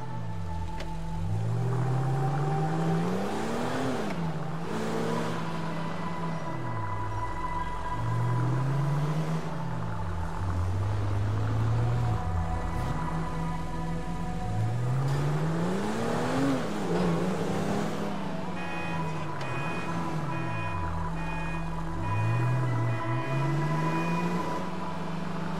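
Car engine in Grand Theft Auto V gameplay as the vehicle drives around a city block, repeated rising and falling revs through gear changes, steady and continuous with no voices.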